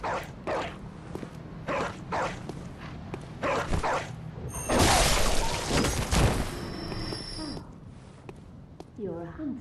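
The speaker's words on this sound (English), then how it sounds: "What is the dog barking at?" A dog barks repeatedly in the video game Bloodborne, sharp, fairly close bursts broken by a louder noisy stretch in the middle, with in-game dialogue near the end.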